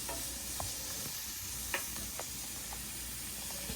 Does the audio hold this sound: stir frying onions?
yes